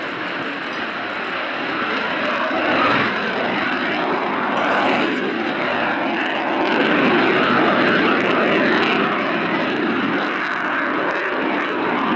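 A Lockheed U-2 Dragon Lady jet roars steadily throughout an airshow flight display, a constant broadband drone with slight swells in intensity and no voices.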